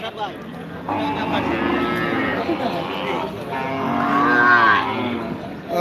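Native breed cows and calves moo repeatedly at a busy cattle market in Betaga, the long drawn-out calls rising over a steady crowd murmur.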